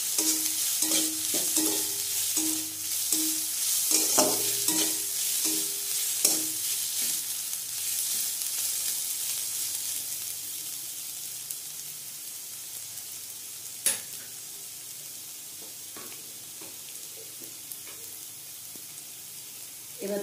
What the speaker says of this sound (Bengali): এবার এগুলোকে আরেকটু নেড়ে নেব